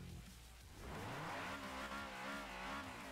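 A tuned Honda Civic in Forza Motorsport 4 revs hard, its loud engine note climbing through rising harmonics after a brief lull, with tire noise and no talking.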